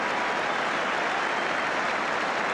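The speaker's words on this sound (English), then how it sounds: "And the goalkeeper gets applause for the second save." A football stadium crowd applauds a goalkeeper's save in a 1981/82 Everton versus Tottenham Hotspur match, a dense, even wash of clapping that holds steady from start to finish with no voices over it.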